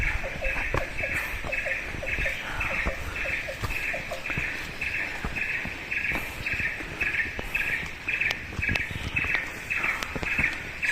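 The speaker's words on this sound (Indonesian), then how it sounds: "Suara burung khas hutan." Forest birds sing along a mountain hiking trail on Mount Penanggungan in East Java, with repeated bright chirping phrases and a steady insect-like buzz under them. The calls sound moderately close and continue through the whole stretch.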